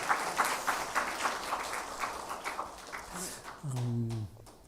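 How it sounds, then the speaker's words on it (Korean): Congregation in a university chapel clapping in thanks, a steady round of many hands that fades near the end as a voice begins speaking. "우리 감사의 박수 하겠습니다."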